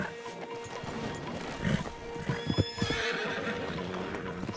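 In Red Dead Redemption 2, a stallion neighs loudly while hooves clop and thud close by, with scattered rustling noise and a faint murmur of voices in the background.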